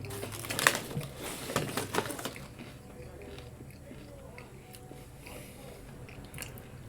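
Crunching bites of food eaten close to a sensitive microphone, several loud crisp crunches in the first two seconds followed by quieter chewing and faint rustles.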